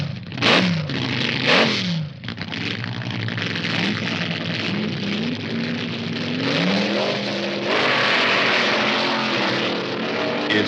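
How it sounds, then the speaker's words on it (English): Twin-engine Top Gas dragsters roar down the strip at the 1970 NHRA World Finals, a loud, sustained engine howl with rising and falling revs and rough clatter throughout. "as one of Jones' twin engines fails because of a broken magneto"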